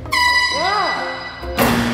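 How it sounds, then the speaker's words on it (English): A handheld air horn blasts loudly and steadily at close range for over a second, its tone wavering and bending mid-blast, then cuts off before a second short blast; voices chatter faintly underneath. "Now Johnny can use the air horn"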